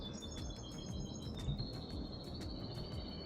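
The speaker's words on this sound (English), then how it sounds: "There are many birds around this area." Birds chirp steadily outdoors with bright, high repeated calls and sustained trills running throughout, set against a busy background of low ambient rumble and wind-like noise.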